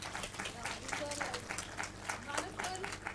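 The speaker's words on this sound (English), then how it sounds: "let's give her a big round of applause" An audience at a winter school session gives a short round of applause, a brisk patter of many hands clapping for about three seconds at moderate distance.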